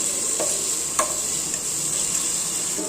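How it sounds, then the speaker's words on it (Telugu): Ginger garlic paste sizzling in a pan with onions and tomatoes for bagara rice, a dense continuous frying hiss close up, with a couple of soft stirring knocks and no voices. "అల్లం వెల్లుల్లి పేస్ట్ బాగా ఫ్రై అయిందండి"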